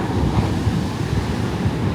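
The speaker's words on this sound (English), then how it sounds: "because it's always a rolling surf like this" Rolling surf on a large, deep-water Cape Town beach, heard as a steady loud wash of breaking waves mixed with wind buffeting the microphone.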